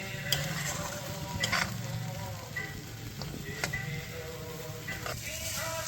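Potol posto, pointed gourd in poppy seed paste with a little water, fries in a pan with a steady close sizzle, broken by a few sharp clicks and scrapes of a spoon, with no voices.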